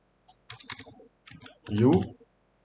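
A computer keyboard typed in short bursts of clicky keystrokes, with a pause between groups, close and fairly clear while a person speaks over the last part.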